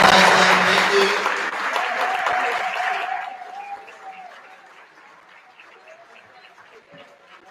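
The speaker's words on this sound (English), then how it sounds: "if we could give a big round of applause to all of our staff and have them stand up and recognize them" Graduation ceremony audience applauds school staff, loud crowd clapping that fades out over several seconds into a quieter hall with a voice continuing.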